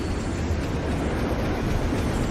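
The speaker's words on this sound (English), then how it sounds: "What's a Night City train doing behind a door?" A train in Wuthering Waves rumbles past in a loud, dense, continuous roar that stays steady and close from start to finish.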